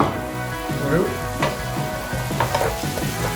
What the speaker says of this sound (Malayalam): ഒരു ഗോൾഡൻ ബ്രൗൺ ആവുന്നത് വരെ ഫ്രൈ ചെയ്യുക.